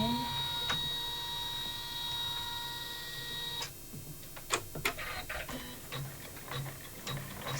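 An in-the-hoop embroidery machine stitches a pouch, giving steady mechanical ticking and whirring with occasional sharper clicks. A quiet voice talks over the machine at times.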